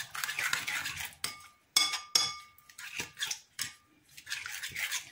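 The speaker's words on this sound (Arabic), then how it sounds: "وغادي ندير واحد شويه ديال الماء، واحد شويه غادي نحرك كلشي." A spoon stirs a sardine filling of herbs, olives and a splash of water in a bowl, making uneven scrapes and sharp clinks against the sides. The strokes come close and fairly quiet, with short pauses between them.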